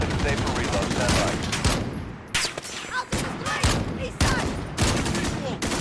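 Rapid automatic gunfire in a Call of Duty match, dense bursts of loud close shots with brief pauses between volleys and voices talking underneath.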